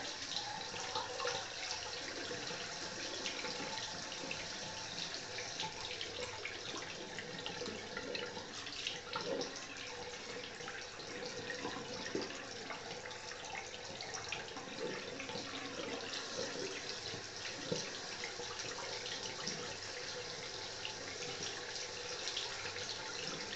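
Cold tap water running into a sink while rinsing the face after a traditional shave: a continuous splashing, steady flow of water for over twenty seconds, close and moderately loud, with no talking.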